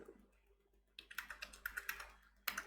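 Quiet keystrokes on a computer keyboard, a brief burst of rapid typing followed by a single sharper key press like the enter key, close and faint in a quiet room.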